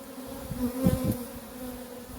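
Honey bees buzz at a hive holding two queens over winter, giving a soft, continuous drone that swells briefly in the middle as a few bees pass close.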